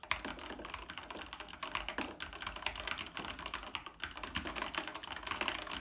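Steady typing on a Lofree 1% Orange Soda keyboard, a dense run of close, soft-edged keystroke clicks and thocks continuing throughout, no voices.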